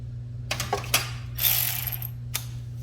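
A ratchet turning out throttle body bolts on a 2015 Toyota Sienna, giving short bursts of fast clicking, then a longer ratcheting pass and a final click, close up over a low engine-bay hum.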